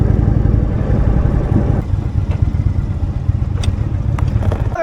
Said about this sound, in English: I can hear all the rattling and shit going on in the bike